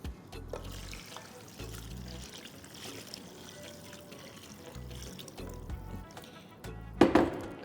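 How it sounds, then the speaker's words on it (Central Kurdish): Water pours into a cooking pot during a home kitchen cooking session, a soft, fairly faint pouring sound over background noise, with a brief louder splash near the end. "ئێستا ئاوەکەی دەخەینە ناو مەنجەڵەکەی"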